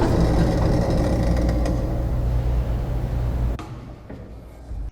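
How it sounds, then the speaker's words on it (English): Big metal door opening as a sound effect, a steady loud rumbling, grinding drone that cuts off abruptly near the end and leaves a quieter tail, no talk. "A big metal door opening."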